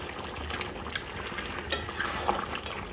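Chicken frying with Kashmiri chilli powder is stirred in a hot pan, giving a soft, continuous sizzle with occasional scraping clicks of the spatula, close and steady, with no talk.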